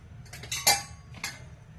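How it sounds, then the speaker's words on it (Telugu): A metal cooking pot is set down on a stovetop burner in a home kitchen, giving a few short clanks and clinks close by, one sharper knock in the middle and a lighter one after it. "ఈ గిన్నె పెట్టేస్తున్నానండి."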